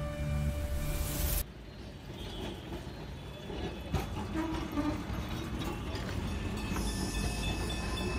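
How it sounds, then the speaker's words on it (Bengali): A tram arrives on a city road as a sound effect in an audio drama, with a steady rumbling rail drone, a hiss and faint clattering wheels throughout, and no speech over it. "সার্কুলার রোডে ট্রাম এসে সামনে দাঁড়িয়েছিল"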